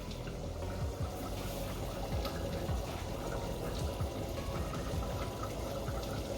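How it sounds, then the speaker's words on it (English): Cooking oil poured steadily into a pot for deep frying potato chips and okra, a continuous close liquid rush and gurgle running without break. "we're going to take a bunch of oil and put it in the pot"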